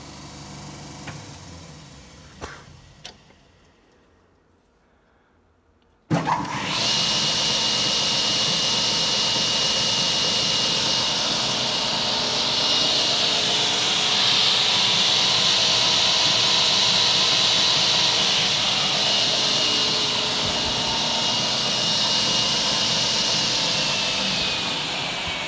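A D300 combination woodworking machine's spindle moulder starts after a few quiet clicks. It spins up abruptly into a loud, steady high-pitched whine and whoosh that holds evenly for about twenty seconds.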